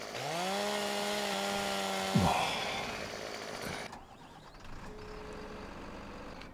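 A chainsaw in the farming video game Landwirtschafts-Simulator 15 buzzes loudly and steadily for about two seconds, then a crack and the falling tree settle into quieter machine hum with a brief beep.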